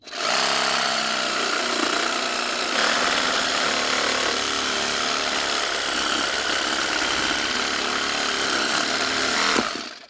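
An Einhell GE-GS 18/150 cordless branch saw cuts through a thick branch outdoors, its steady high whirring chain buzz running loud and unbroken for about ten seconds before cutting off.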